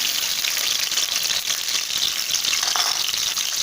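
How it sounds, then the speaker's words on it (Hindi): Onion sizzles and fries in hot ghee in a pan, a loud, continuous hissing crackle that holds steady throughout with no talking. "अभी हम इसके अंदर प्याज डालेंगे।"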